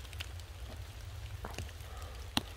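Light rain patters steadily on a surface, with a few sharper drops standing out over a low, constant rumble in the background.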